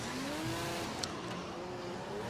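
Drift car engine at a drift competition, heard from a distance as a sustained rising and falling whine with a rough low rumble underneath, plus a brief sharp click partway through.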